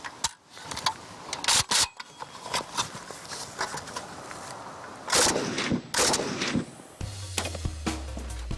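Sharp, loud cracks of automatic rifle fire ring out in short bursts and single shots, separated by pauses, over a noisy outdoor background.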